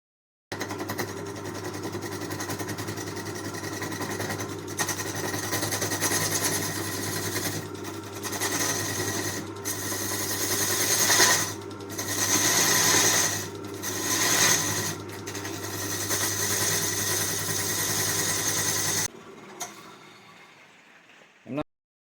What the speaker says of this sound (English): I'm just going to start off with turning a tenon at either end so that I can start using the chuck.